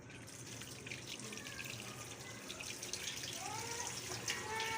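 Water poured over boiled balls in a kitchen, a steady continuous splashing stream like a running tap, moderately close and fairly quiet, with no talking.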